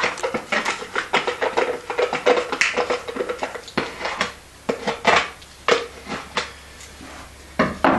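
Epoxy resin and hardener being stirred together in a paint kettle, with repeated scraping clinks and knocks of the stick against the container wall in an irregular rhythm, close and fairly loud, no talking.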